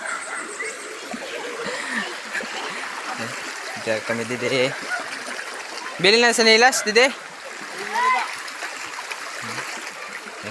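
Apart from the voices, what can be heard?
river water flowing and splashing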